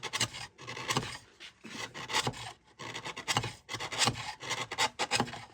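Inner edges of a maple seven-string lyre frame, largely end grain, are chamfered by hand, making loud, rhythmic rasping strokes in repeated bursts with brief gaps, close and with no talk.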